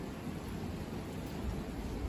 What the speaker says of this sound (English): blowing rain